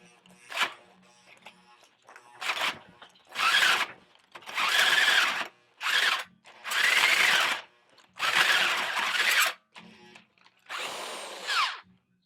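A power drill boring into a small piece of junk metal for a Ford Bronco uniball conversion, heard in about six loud whining bursts of one to two seconds each, separated by short pauses.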